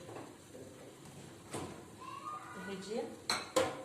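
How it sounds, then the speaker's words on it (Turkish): A frying pan and pots clank and rattle in a few sharp knocks, with softer scraping in between, close by in a quiet kitchen. "Bir de şu tavamı çıkartacağım."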